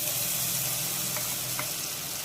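Vabra batter hits a hot wok with a steady, moderate sizzle and crackle, and a couple of faint spoon clinks come through near the end.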